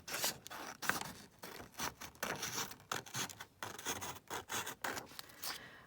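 Scissors or a blade trimming the edge of a paper page for a glue book, a close series of short rasping, scraping cuts in an uneven rhythm, with no talk.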